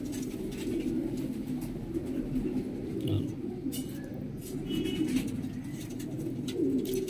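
Pigeons coo repeatedly in low, throaty pulses, a steady rolling murmur of several birds close by at a breeder's loft, with background noise.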